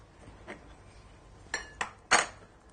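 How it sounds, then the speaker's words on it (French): Herbed butter being worked in a bowl with tarragon, basil, parsley, garlic, mustard and Worcestershire, giving a few sharp clinks of utensil against dish, the loudest near the end, over a quiet background. "on mélange le tout avec le beurre pour pouvoir en faire une pâte"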